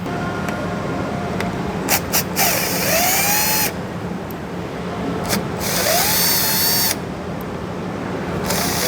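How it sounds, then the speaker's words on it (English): Power drill backing Phillips screws out of a car door end cover during Mercedes CLK door panel removal, two sustained whirring bursts with short clicks between, fairly loud and close. "And then we have to remove these 3 Phillips screws from this end cover."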